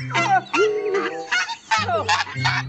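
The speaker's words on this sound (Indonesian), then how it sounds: "ternyata ini hewan angsa teman-teman" White domestic goose giving a series of loud, close honks and nasal calls in quick bursts, several separate calls spread across the moment with brief gaps between them.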